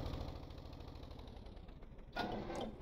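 A car engine in the video game Stormworks sputters as it cuts out and triggers an automatic restart: a steady mechanical drone, then a brief louder burst of noise as it comes back to life, with no talk.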